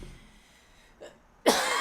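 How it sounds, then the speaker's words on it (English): A single sharp cough bursts out near the end after a brief throat sound, loud and close, following near silence. "I'm just gonna cough."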